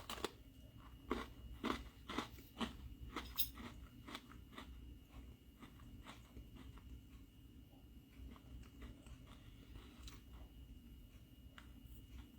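Close, crisp crunching bites of a Coke-flavored Oreo cookie with popping candy, several sharp crunches early on, then quieter chewing with scattered small crackles, no talking.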